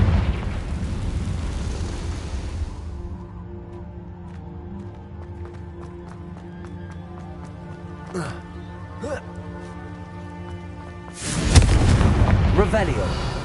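Confringo fire spells explode in Hogwarts Legacy, two loud booming bursts at the start and the end with quieter game ambience between. Voices are present.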